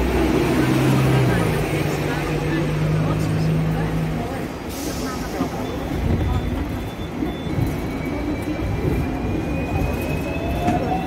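Rumbling tram ride with passengers aboard, a loud continuous roar of wheels and motor with a faint high squeal and a brief hiss partway through.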